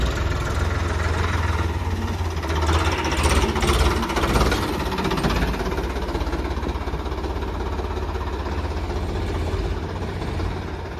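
A Ford 3600 tractor's diesel engine runs steadily close by, a low rumbling idle with a rough, knocking pulse that swells slightly partway through; no talking.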